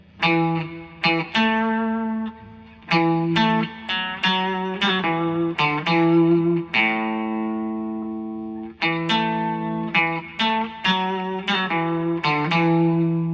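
An electric guitar on the middle pickup, played through an effects unit, picks distorted notes and chords in short ringing bursts. Some notes sustain with a shimmering, chorus-like tail, loud and close with no voices.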